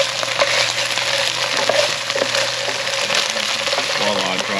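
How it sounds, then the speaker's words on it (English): Onion and red curry paste fry in a pan with a steady, close hiss and sizzle that runs unbroken throughout, with faint voices murmuring in the background. "Starting out with the onion and the red curry paste."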